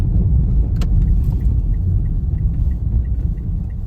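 A car rolls up and pulls in to park outdoors near the sea, its engine a steady low rumble and hum up close, with a few faint clicks and no talk.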